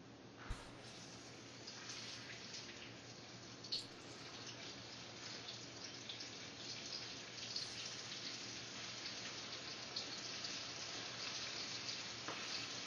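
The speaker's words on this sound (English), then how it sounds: "We're going to go ahead and put it into our oil." Double-battered chicken wings frying in hot oil, a steady broad sizzle that runs unbroken, with a few brief sharper pops and clinks.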